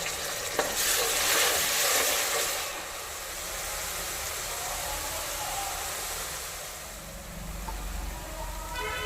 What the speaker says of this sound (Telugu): దాన్ని ఆయిల్లో వేసి పచ్చివాసన పోయేంత వరకు వేయించుకుందాం.